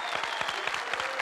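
Studio audience applause on a 1996 Turkish TV talk show, İbo Show, a dense steady clapping with individual claps standing out, loud and continuous with no talking over it.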